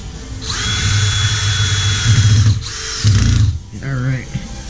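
Power driver sinking screws into a whitetail buck taxidermy mannequin, loud whirring bursts with a pause between them, close up, with a voice speaking over parts of it.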